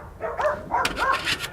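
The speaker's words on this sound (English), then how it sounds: "you'll be able to tell that by my barking dogs" Pet dogs bark at a ringing doorbell, giving several quick, sharp, close barks in a short burst.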